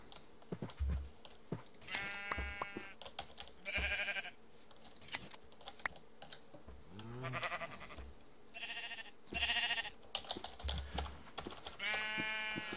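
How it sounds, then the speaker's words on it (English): Sheep in the Minecraft video game bleat repeatedly, several short wavering calls spread across the clip, mixed with clicky keyboard typing and mouse noise. "Be nice if I could bring 2 of those sheep with me"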